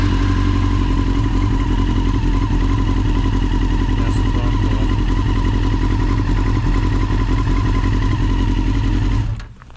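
A Yamaha R6 motorcycle kept in a damp garage, its starter wires oxidized, cranks loudly and steadily for nearly ten seconds without the engine catching, with a rapid mechanical churning that cuts off abruptly at the end.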